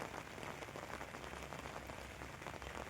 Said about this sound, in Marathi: पाऊस काय झालेला आहे, जास्त खवळलेला आहे